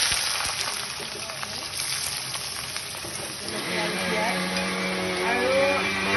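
Onion and bay leaves fry in a pan with an even, close sizzle that grows a little louder toward the end, while a person talks over it.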